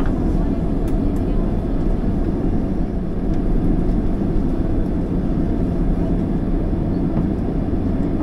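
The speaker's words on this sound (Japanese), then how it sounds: "飛行機は間もなく駐機場に入ります。" An airliner taxis to its parking stand after landing at Hakodate Airport, heard from inside the cabin as a steady low engine rumble and droning hum throughout.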